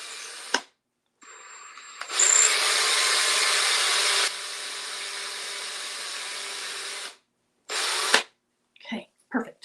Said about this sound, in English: I just drilled, it's probably close to 1/2 inch into there, between 1/4 and 1/2 inch